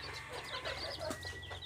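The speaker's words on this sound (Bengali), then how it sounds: "এখানে টাইগার মুরগির বাচ্চা আছে কিছু, আর সোনালি মুরগির বাচ্চা আছে কিছু" Tiger and golden chicken chicks cheep in a flock, many overlapping high chirps in a steady chorus, faint and continuous with low background hum.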